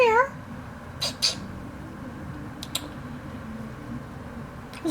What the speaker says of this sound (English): sometimes the cats will meow